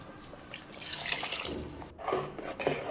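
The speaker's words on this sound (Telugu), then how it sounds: "కొంచెం వాటర్ వేసేసుకొని కలుపుకోవాలి." Wet dripping and sloshing of water being stirred into a thick capsicum curry masala, close and moderately loud, with no talking.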